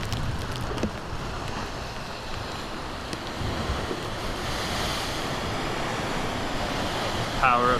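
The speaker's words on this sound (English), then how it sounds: "power of the ocean" Ocean surf on the Oregon coast, a steady loud wash of breaking waves and spray with wind buffeting the microphone throughout, rising slightly near the end.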